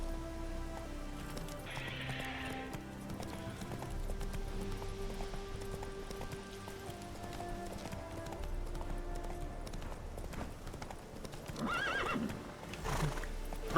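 Roach, the horse in the Witcher 3 video game, whinnies and snorts with hoof clip-clops, over a layered game music and ambience bed.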